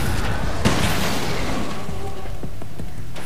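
Flare gun fired in a video game: a sharp booming pop near the start, followed by a fizzing, crackling burn trailing off with a few smaller pops.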